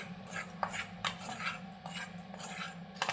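Several metal spoon scrapes and clinks against a pot, irregular and close, with soft bursts of stirring between them, as dried Bombay duck pickle is spooned into the pot.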